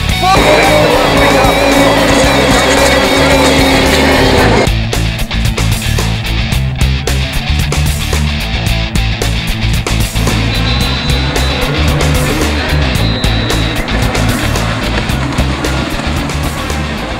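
Race cars tearing around the track at Syracuse, a loud sustained engine roar that shifts after a few seconds into a denser, rougher rumble of several cars passing close, with a faint crowd in the background.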